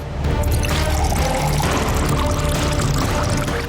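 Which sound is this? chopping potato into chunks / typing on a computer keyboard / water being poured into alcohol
water being poured into alcohol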